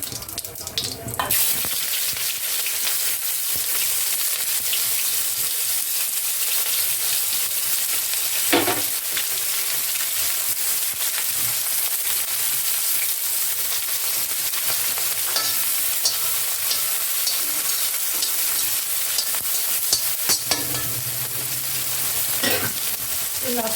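Onions frying with cumin seeds in a pan for kadhi, a steady loud sizzle throughout with occasional stirring clinks and brief bursts.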